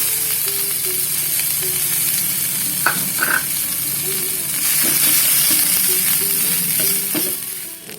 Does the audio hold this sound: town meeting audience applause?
no